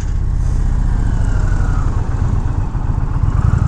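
An Indian Challenger motorcycle is ridden through corners, its engine a loud, steady low rumble with wind roar and no break in the drone.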